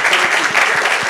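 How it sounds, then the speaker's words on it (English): Brief burst of audience applause at a nearshoring summit, dense clapping heard close and fairly loud, with no talk. "let's give a round of applause to our next president"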